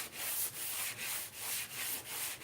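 Steady back-and-forth sanding strokes rasp over glue seams on a light foam model aircraft wing, about six even passes, close up with no talking.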